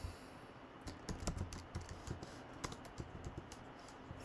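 Computer keyboard typing while coding a Snake game in JavaScript: a steady run of close, crisp key clicks with uneven rhythm and small bursts, alone without speech.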